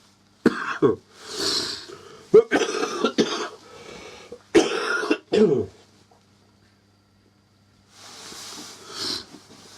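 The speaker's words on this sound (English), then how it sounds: "I was sneezing quite a bit, coughing." Several harsh coughs and throat-clearing bursts close to the mic, separated by wheezy breaths and pauses, ending with softer breathy hisses.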